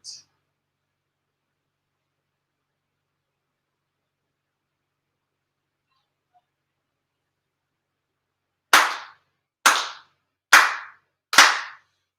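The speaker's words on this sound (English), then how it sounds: "Chido tomoni haire 4 sincere claps along with the head officiant." Four sincere ritual hand claps at an end-of-year religious ceremony, led with a head officiant, sharp and evenly spaced after a long silence, loud and clear with no talking.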